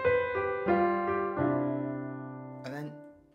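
A piano plays a short Grade 2 phrase with an uncounted left hand: a few sustained notes and chords struck unevenly, the bass note dropping in at a haphazard moment before a brief vocal sound.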